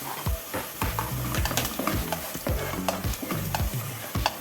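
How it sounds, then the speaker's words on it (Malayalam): Masala with curry leaves for fish biryani is stirred briskly in a pan, producing loud rhythmic scraping strokes over a constant sizzle. "അതൊട്ട് നന്നായിട്ട് ഇളക്കിയെടുക്കുക."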